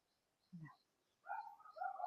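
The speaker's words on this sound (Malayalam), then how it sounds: "നിങ്ങൾ കേൾക്കുന്നുണ്ടോ കിളികളുടെയൊക്കെ" A few faint, brief bird calls in a quiet home plantation at dusk, one short note followed by a couple of warbling chirps.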